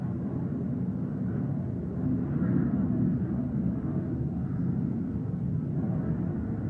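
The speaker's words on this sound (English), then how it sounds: "Can you hear the loud airplane?" A steady low rumble of an airplane passing overhead, droning evenly with a slight swell in the middle, no voices.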